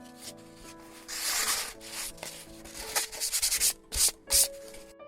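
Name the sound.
sanding gessoed paper sheets with 220 sandpaper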